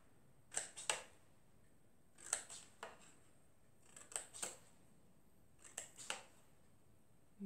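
Scissors snipping small strips of paper for a little dinosaur craft: four quiet pairs of crisp double snips, close and evenly spaced, with near silence between them.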